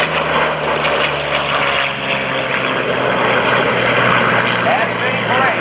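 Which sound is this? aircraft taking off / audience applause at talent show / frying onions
aircraft taking off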